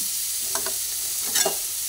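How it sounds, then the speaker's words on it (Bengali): Vegetables with salt frying in a pan, a steady close sizzle with a few brief scraping stirs of the spatula, no talking. "ভালোভাবে নাড়াচাড়া করে নিচ্ছি। নাড়াচাড়া করে ভেজে নিচ্ছি।"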